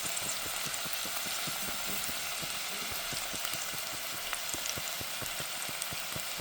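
Yuca (cassava) frying in a pan on medium heat, giving a steady, dense sizzle with fine crackling pops throughout, close and even, with no talking.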